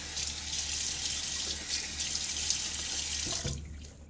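A bathroom tap runs steadily into a sink, splashing as hands wet a face before a shave, continuous and close, then cutting off abruptly near the end.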